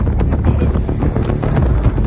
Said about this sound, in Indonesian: Batang pohon itu bergoyang, daunnya berisik diterpa angin.